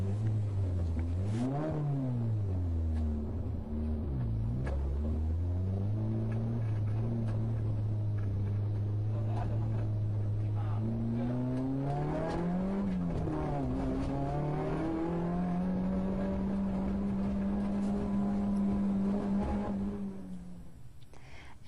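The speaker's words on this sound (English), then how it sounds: "As the racing car approached the finish line, the driver waved the steering wheel and completed his race." A racing car engine howls close by during a race, rising and falling in pitch as it revs up and shifts through gears, loud and continuous before easing off at the end.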